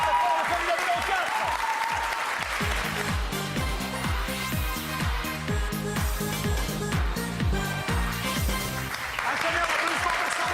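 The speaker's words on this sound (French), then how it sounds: "Un tonnerre d'applaudissements pour Samba." Loud, sustained studio audience applause on a French television talent show, a dense wash of clapping that runs steadily for about ten seconds while a rhythmic music track plays beneath it.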